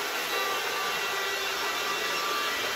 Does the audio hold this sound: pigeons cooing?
no